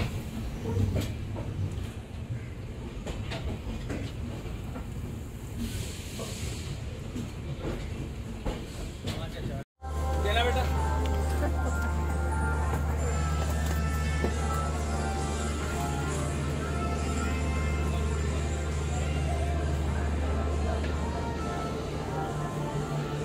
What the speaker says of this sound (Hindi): आ गया है अपना लखनऊ जंक्शन। ट्रेन अपनी आई है प्लेटफॉर्म 4 पे।